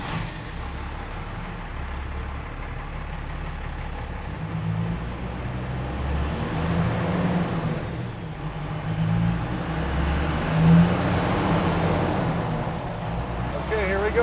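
A Cummins diesel-powered International Scout runs on a dyno, its engine droning steadily and slowly building in intensity with a rising mechanical whine over the run, heard close and continuous.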